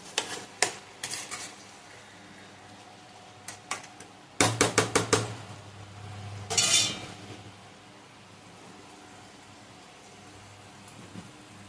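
Chicken curry being stir-fried with spices in a pan: sharp rhythmic scrapes and clinks of a spatula against metal come in bursts over a low sizzle, with one brief louder hiss midway.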